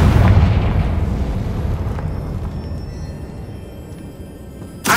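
A Confringo blasting spell explodes in the Hogwarts Legacy video game. It is a loud, booming blast that rumbles and fades over several seconds, followed by a short sharp burst at the end.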